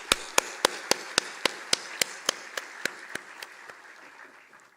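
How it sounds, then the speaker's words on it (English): At a business school orientation at NMIMS University, crisp, evenly spaced claps ring out one after another in a steady beat, gradually softening and fading toward the end. "I think this calls for a big applause"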